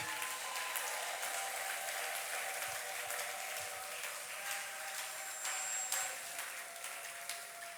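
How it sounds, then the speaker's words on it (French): A church congregation at a wedding service claps steadily for a sustained stretch, an even wash of applause heard at moderate level without speech over it. "J'ai dit qu'on applaudit pour le Seigneur."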